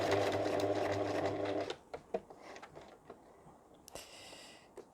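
A sewing machine stitching a fabric shower sponge runs in a loud, steady whir for about a second and a half, then stops, leaving scattered small clicks and handling noises of fabric and clips nearby.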